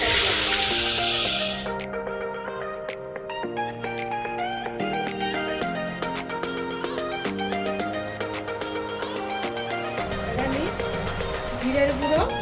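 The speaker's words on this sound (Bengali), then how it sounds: "এটা আমি 10 সেকেন্ড মতন ফ্রাই করব" Spices with chili and ginger paste hit hot oil for a vegetable curry, giving a loud, close sizzle for a second or two before it drops under steady background music.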